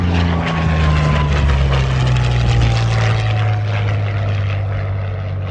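A Supermarine Spitfire and Hawker Hurricane, WWII fighter planes, drone past at an airshow in Michigan with a loud, sustained propeller-engine roar that slowly falls in pitch as they fly by.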